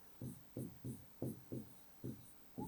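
A pen scratches across paper while an example letter is written by hand, giving seven quick, soft strokes in an uneven rhythm, close and quiet.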